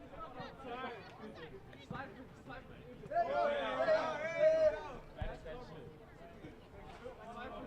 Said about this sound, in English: The Whitecaps men's team training down just underneath us.